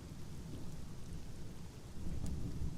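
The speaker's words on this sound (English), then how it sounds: "A light drizzle of silver rain brushes the village." Faint rain ambience in the video game Sunless Skies gives a soft, continuous patter over a low rumbling bed that thickens slightly near the end.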